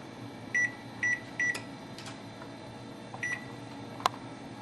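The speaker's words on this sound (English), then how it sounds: "Set your timer for 20 minutes." An oven timer gives three short, evenly spaced beeps as it is set, followed by a few fainter clicks and one more beep in a quiet kitchen.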